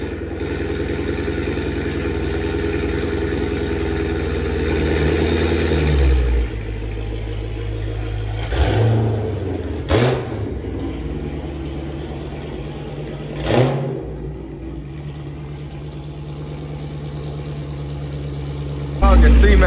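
A Dodge Challenger 392 Scat Pack V8 idles with a deep, steady rumble, then pulls out with a few louder throttle blips and clunks. Someone talks over it.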